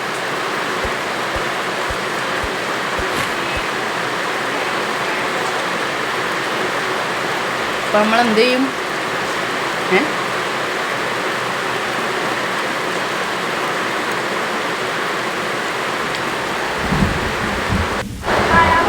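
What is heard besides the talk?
heavy rain with thunder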